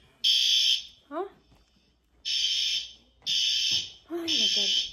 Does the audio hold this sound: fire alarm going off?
yes